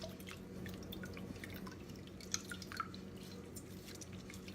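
Homemade oat milk, just oats and water, drips through a t-shirt strainer, giving faint, sparse drips and a couple of soft splats over a quiet, steady background.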